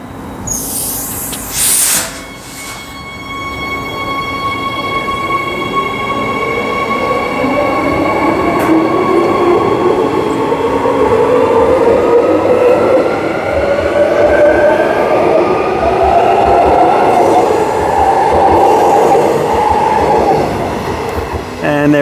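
A six-car suburban electric passenger train pulls away from Bayswater station in Perth, its rumble building steadily with rising wheel and motor whine and some squealing as it gathers speed nearby.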